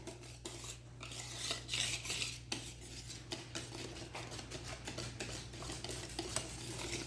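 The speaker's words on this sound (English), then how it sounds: "mix in our wet ingredients to the chocolatey mixture." Wet ingredients being stirred into a chocolate cake batter in a bowl, with repeated scraping and clinking of a utensil against the dish in an uneven rhythm, close and alone.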